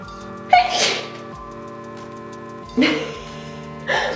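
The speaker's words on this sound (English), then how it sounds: "oh, I'm gonna sneeze." Three sharp sneezes at irregular intervals, close and loud, each a sudden burst against a quiet background.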